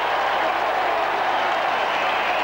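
Crowd noise at an AFL football match between Sydney and Richmond at the SCG, a dense, continuous roar and applause from a large stadium audience, steady and fairly loud throughout.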